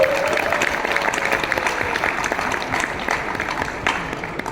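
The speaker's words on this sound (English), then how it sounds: "A big round of applause to him." A crowd applauds a Bollywood composer, singer and actor, with steady dense clapping sustained at even loudness and some light crowd noise and faint speech mixed in.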